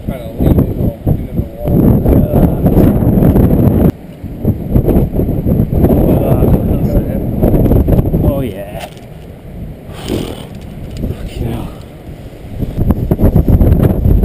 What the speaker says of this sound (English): This is where it does get windy.